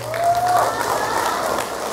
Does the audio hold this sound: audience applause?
yes